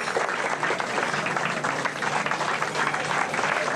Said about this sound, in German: Also ein Applaus für Uli Kanter.